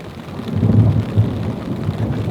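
Steady rain falls outdoors with low, rolling thunder rumbling beneath it. The sound is loud and continuous, and no one speaks.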